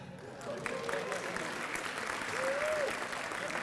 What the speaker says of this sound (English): Y'all supposed to clap.